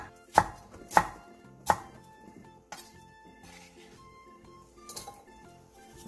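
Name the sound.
knife slicing onion and chili peppers on a board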